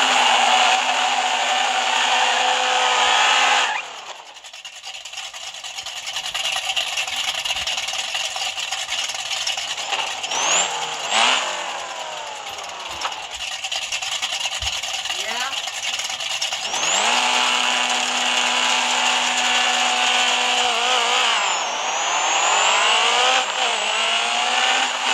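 A Toyota Supra's engine in the No Limit Drag Racing 2.0 mobile game, loud and continuous, with repeated rising rev sweeps and gear shifts across the run and brief drops between pulls.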